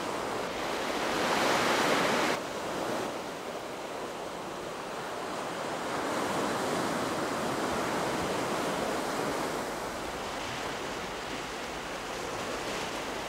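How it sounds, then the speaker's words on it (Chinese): Ocean waves wash steadily onto the shore in a continuous, fairly loud surf roar, swelling and easing gently, with no voices over it. "啲海浪聲啊！"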